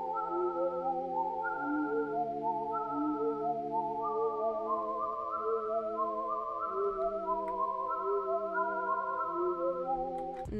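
Arpeggiated synth chords copied from a played part, with bright stepped tones cycling steadily over sustained lower notes, continuous and fairly loud throughout with no voices.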